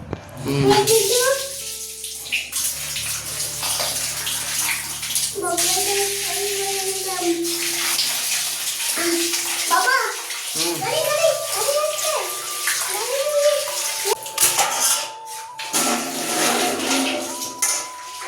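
Freshly cut fish are rinsed under running water, which splashes and gushes loudly from a tap into a basin while voices, including a child's, talk over it.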